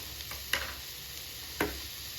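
Banana flower and cowpea thoran sautéing in a pan, a soft, quiet sizzle with two brief stirring scrapes, close but faint, no talk.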